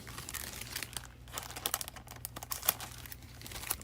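Foil booster card packs, Chinese-exclusive Pokémon boosters, are shuffled by hand close up, giving a steady run of crinkly, crackling plastic rustles with sharper crisp bursts, alone without talk.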